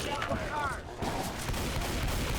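Gunfire in Left 4 Dead 2 as players shoot at a Boomer, a dense burst of rapid shots with a brief lull, mixed with game noise and muffled voices.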